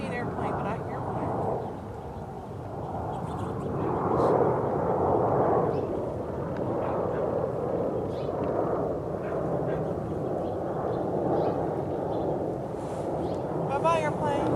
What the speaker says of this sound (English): I don't see an airplane, but I hear one.